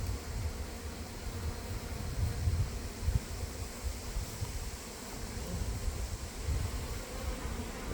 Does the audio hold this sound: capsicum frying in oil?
no